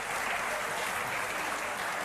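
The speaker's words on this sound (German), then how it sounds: "Und Sie klatschen dazu, oder?" A studio audience on a German TV cooking show claps steadily, a dense, even wash of hands filling the whole stretch at close range without pause.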